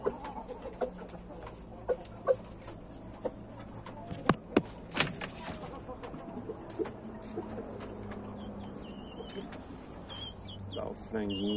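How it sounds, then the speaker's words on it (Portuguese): A black rooster and two hens cluck softly in scattered short bursts over quiet outdoor background noise, with occasional sharper calls from the birds. "Aqui está o galo preto e as duas galinhas."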